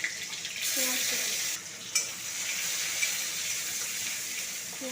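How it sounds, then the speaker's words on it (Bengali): Chopped onion frying in hot oil in a kadai with nigella seeds and green chillies, a steady close sizzle with a few clinks and scrapes of stirring. "পেঁয়াজটাকে একটু হালকা করে ভেজে নেবো লাল লাল করে।"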